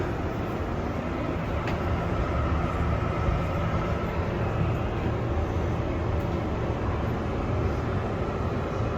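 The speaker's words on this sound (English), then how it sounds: "This is a Manhattan-bound 7 express train." An R188 subway train runs on the 7 express line in New York, a steady, loud rumbling roar of wheels on rails with a faint squeal, continuous and close from inside the car.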